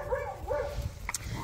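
An Anatolian Shepherd puppy, a livestock guardian dog kept with goats, gives a few short, fairly near barks and yips, with a faint chirp or whistle in the background.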